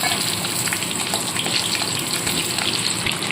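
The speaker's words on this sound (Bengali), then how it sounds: "এবার আলুগুলোকে ছেড়ে ভেজে তুলে নেব অল্প নুন আর হলুদ দিয়ে দেবো" Potatoes frying in hot oil with salt and turmeric give a dense, continuous sizzle, loud and close throughout.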